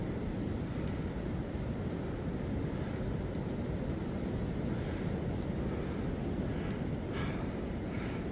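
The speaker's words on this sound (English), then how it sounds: "Can you hear the wind?" Steady wind roaring across the exposed, windy side of a mountain along the Appalachian Trail on a rainy day, a constant broadband rush that fills the whole stretch at an even level, with no talk.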